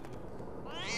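A single short cat meow in the video game LEGO Harry Potter, rising at the very end of the clip over a low muffled game background.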